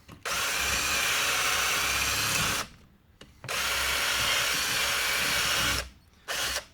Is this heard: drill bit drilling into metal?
yes